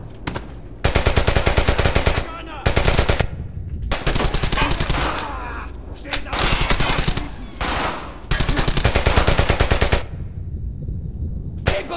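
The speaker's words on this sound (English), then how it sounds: "Shoot him now!" Loud sustained bursts of automatic rifle fire in the World War II shooter Brothers in Arms: Hell's Highway, several long volleys separated by short gaps, with distant shouting faintly mixed in.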